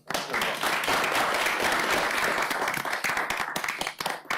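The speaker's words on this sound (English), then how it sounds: "We will applaud you." Audience applause at a city council meeting, a full burst of many hands clapping that rises quickly and holds steady before thinning slightly toward the end.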